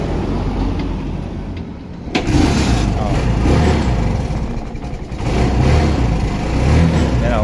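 A turbocharged engine starts on a single turn of the key and settles into a loud, rough, close running sound that swells and dips with revs.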